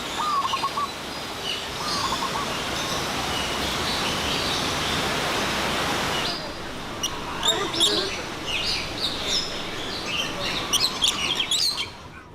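Birds chirping inside the Edward Youde Aviary in Hong Kong, a large walk-through aviary built over a natural valley; bright, repeated tweets and calls sit over a steady wash of background noise, becoming more distinct and scattered toward the end.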